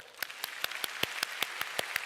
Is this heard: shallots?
no